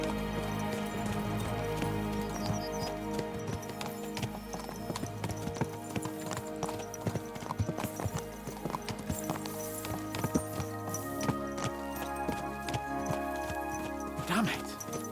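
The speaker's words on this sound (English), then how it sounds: "Let's really spur these horses on, eh?" Horse hooves gallop in a steady clip-clop rhythm in the medieval video game Kingdom Come: Deliverance II, running continuously beneath a layered musical score with occasional whinnies and a brief voice.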